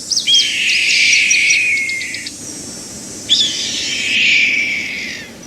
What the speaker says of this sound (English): Red-tailed hawk.